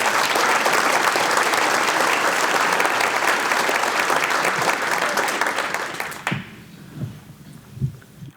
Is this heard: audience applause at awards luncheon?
yes